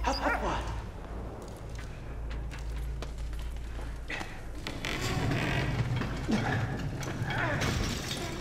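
A dog barks and yips in the video game Valiant Hearts: The Great War, with short bursts over a constant low rumble of game noise and mechanical creaks, under steady background sound.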